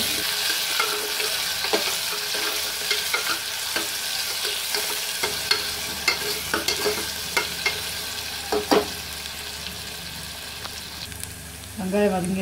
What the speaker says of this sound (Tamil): வெங்காயம் கருவேப்பிலை போட்டுக்கிறேன். நல்லா வதங்கட்டும்.